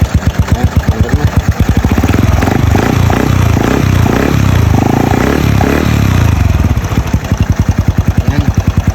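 A Honda Wave 100 motorcycle engine, just repaired after a CDI fault, starts with a rapid putter, revs to a loud sustained roar for a few seconds, then drops back to a steady close idle.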